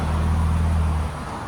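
A stock-exhaust 2023-2026 Nissan Z with a 3.0L twin-turbo V6 idles close by, a steady low engine rumble that eases slightly toward the end, with no voices.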